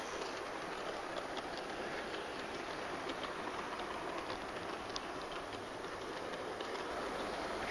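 A Hornby Great Western Hogwarts model locomotive running on a layout, a continuous whirring hiss with faint rhythmic clicks of wheels over rail joints, steady and even throughout.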